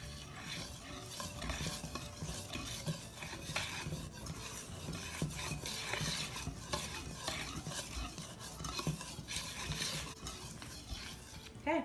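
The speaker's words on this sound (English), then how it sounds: "And go ahead and whisk it up." Dry ingredients of baking soda, salt, cinnamon and ginger whisked together in a bowl for vegan ginger snap dough, a steady close scraping, stirring rustle running continuously with small clinks of the whisk against the bowl.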